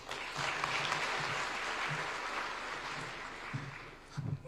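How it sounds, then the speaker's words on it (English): A conference audience at an international nuclear energy gathering in Nairobi claps in a thick, sustained round of applause, steady throughout and tapering slightly near the end, with a faint low hum beneath. "Let us give Commissioner Magwood another round of applause."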